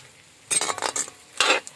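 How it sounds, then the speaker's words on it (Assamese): Duck meat fries in oil with onion as a metal spatula scrapes and stirs it against the pan, in two clattering bursts separated by a quieter sizzle, with no speech. "এইখিনি একবাৰ গোটেই তেলতে ভাজি পেলাই"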